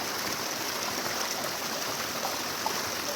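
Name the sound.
waterfall water flowing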